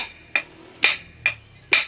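Four sharp, heavy thuds land at an uneven pace as a fish is pounded, each a dull smack with a brief ring, close by and otherwise quiet.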